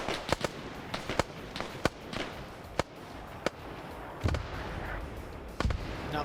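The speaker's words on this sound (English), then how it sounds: "More mortars coming in. It's going to continue to hit." Mortar shells exploding in a World War Two era PvP shooter game, set in the Middle East, as a string of sharp distant-sounding blasts arriving one after another at uneven intervals over a rumbling background, with a voice talking faintly beneath.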